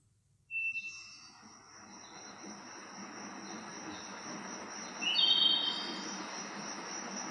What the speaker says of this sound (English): Playing nature sounds.